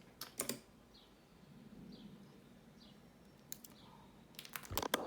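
Typing on a homemade keyboard wired to an ATmega328P board, a few quick bursts of clicky keystrokes near the start and end with faint chirps in a quiet room.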